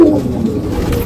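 Pigeons coo in a pigeon-keeping area in a brief, loud, close burst of low throaty calls over a constant hum, with no voices.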